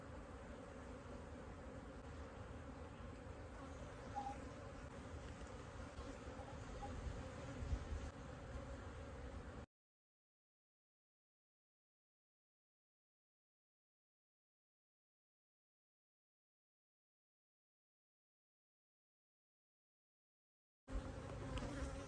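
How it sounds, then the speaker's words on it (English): Honey bees buzz around an open hive box during spring colony expansion in Texas Hill Country, a dense, steady swarm drone close by that cuts out into silence partway through and returns at the end. "That way they already get some bees up in this top box."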